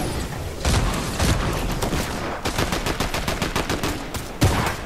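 Rapid automatic gunfire in the shooter game Forever Zone War, dense bursts of shots with a few heavier booms, loud and close, with a voice briefly audible.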